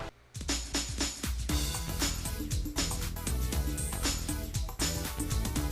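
Upbeat Super Monkey Ball 2 main menu music plays alone, a bright, dense video game track with a steady punchy beat and layered melodic synths, loud and continuous throughout.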